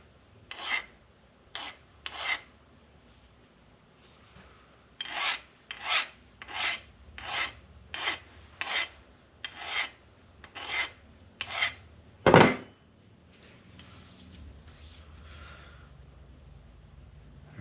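A hand file rasps rhythmically across the underside of a homemade steel surface gauge base to remove burrs. About a dozen close, crisp strokes come in steady succession and end in one harder stroke, followed by quiet shop ambience.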